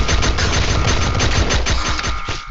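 Rapid automatic gunfire from a submachine gun in the video game Glory Frontline, a loud continuous burst of rattling shots lasting a couple of seconds before cutting off.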